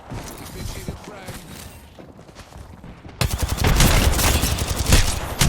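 A frag grenade blows up in a first-person shooter game with a sudden loud, dense burst that stays rough and noisy, following quieter crackling game noise.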